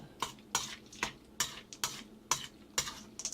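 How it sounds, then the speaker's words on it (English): Toasted nuts are mixed into vermicelli with a utensil, producing about ten crisp, evenly spaced scraping and clinking strokes against the dish, close and fairly quiet, with no talk. "And just mix them a little bit."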